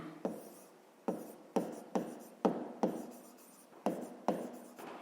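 A pen writes numbers in a notebook during a fifth-grade maths exercise, with about nine distinct scratchy strokes and taps arriving in a steady, near, fairly quiet rhythm and no voices.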